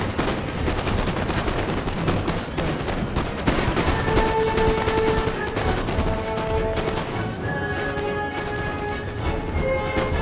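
Musket gunfire crackles through a Napoleon Total War battle, with dense, continuous volleys and scattered shots, loud and sustained, some brief tonal notes rising over the din.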